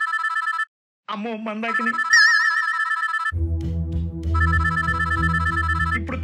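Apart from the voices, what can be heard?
phone ringing with an incoming call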